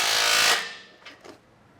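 A power tool whirs briefly while tightening a bolt on a Ford Bronco rock slider bracket, stopping after half a second, followed by a couple of faint clicks and knocks nearby.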